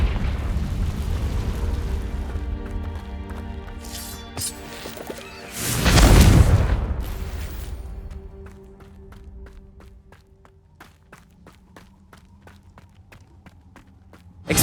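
A Confringo blasting curse in Hogwarts Legacy sets off a big explosion mid-fight, a loud swelling boom that rolls out and fades, surrounded by combat clatter and footsteps, with quieter ringing tones and sharp ticks afterward.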